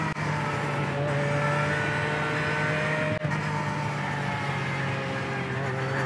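Porsche 911 GT Cup car engine in the iRacing sim at Las Vegas Motor Speedway, a steady, loud, high-pitched drone holding near one pitch throughout, with a brief click partway through.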